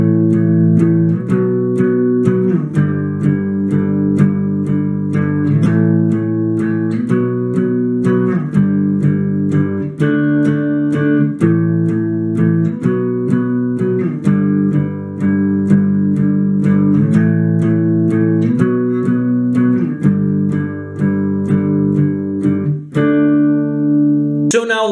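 Acoustic guitar strumming the chorus chords of a song, steady and loud with rhythmic chord hits throughout and no voice over it.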